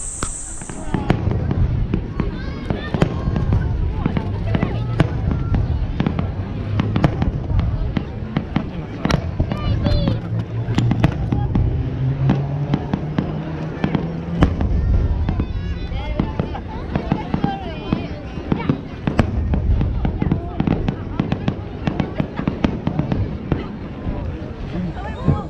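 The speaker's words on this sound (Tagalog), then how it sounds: "Later we're just gonna see the fireworks." Kamakura fireworks display in Japan, a dense, continuous barrage of loud cracks and booming bursts with crackling, heard amid a crowd with voices throughout.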